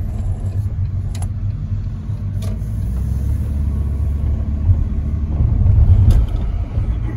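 A shuttle car driving around a hairpin bend, its engine a steady low rumble heard from inside the cabin, swelling slightly toward the end, with a few light clicks and no talking.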